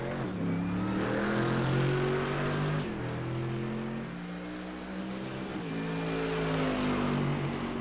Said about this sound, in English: Let's just listen, because this is a brutal sounding car.